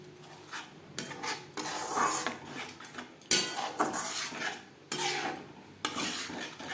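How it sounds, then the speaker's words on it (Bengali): Ground spice masala stirred and fried in a metal pan on low to medium flame for a pomfret curry, with a spoon scraping and rasping against the pan in repeated strokes, close and alone. "তিন চার মিনিট লো টু মিডিয়াম ফ্লেমে গুঁড়ো মশলার সাথে মশলা বেশ ভালো করে কষিয়ে নেব।"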